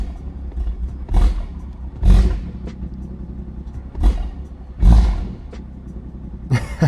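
A tuned BMW B58-powered car with a dual-clutch transmission rolls along, its engine rumbling low and steady while several loud burbling surges swell and fade at intervals, close by.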